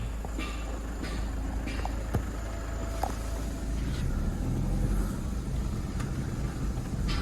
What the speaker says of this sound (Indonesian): Traktor pengangkut buah sawit dan tangki.